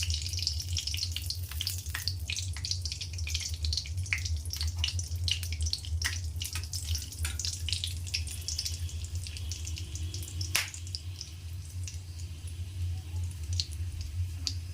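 Whole cardamom, cloves and cinnamon sizzle steadily in hot oil for a masala enchor (green jackfruit curry), a continuous close crackle with scattered sharper pops over a low hum, with no talking.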